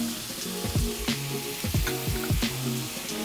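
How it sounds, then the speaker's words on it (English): Chopped peppers, onions and garlic sautéing in a hot pan, a steady close sizzle with soft repeated scraping of a utensil stirring through the vegetables. "So I'm going to let this cook until the veggies are nice and tender."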